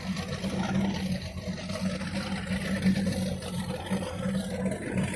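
Motorboat engine running on Lake Conroe, Texas, a steady low droning hum that holds at an even level throughout without clear revving, heard from a distance with no talking.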